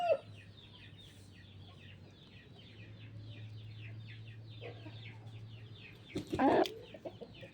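Newly hatched chicks of an Undertaker game-fowl line peep and cluck softly in a quick, repeated patter over a low electrical hum. A louder fluttery burst comes near the end, and no one speaks.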